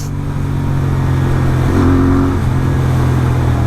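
Royal Enfield Interceptor 650 with an S&S camshaft, engine revving steadily up toward a 7,500 rpm redline, loud and close with a rising pitch around the middle and a sustained drone, no talk.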